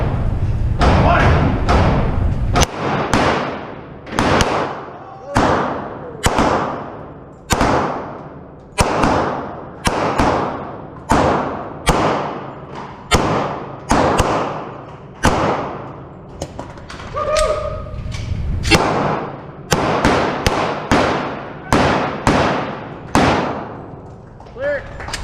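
Smith & Wesson M&P Core 40L pistol converted to 9mm, firing one-handed at a pin match: roughly twenty sharp, loud shots in a fast, fairly even string, each followed by a short echoing decay, with a voice briefly audible among them.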